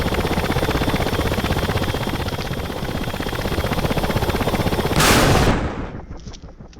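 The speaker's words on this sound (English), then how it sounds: "You'll see a series of shots here where the KA-50 fires the Vickers from a" KA-50 attack helicopter in the DCS flight simulator, with a dense, rapid rattle of fire over the rotor and engine drone for several seconds, a sharp loud burst near the end, then the sound fading out.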